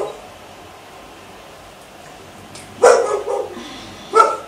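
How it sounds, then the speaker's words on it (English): A dog barks from behind a window, two separate muffled barks over a quiet room hum, the first a quick cluster and the second a lone yap a moment later. "my dog is behind the window, this is so weird"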